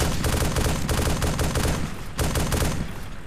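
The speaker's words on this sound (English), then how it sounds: "Taking fire!" Sustained rapid gunfire from a realistic war video game, dense automatic bursts filling the whole stretch with a brief dip partway before the shooting resumes loud and close.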